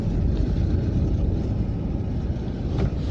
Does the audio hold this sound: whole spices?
no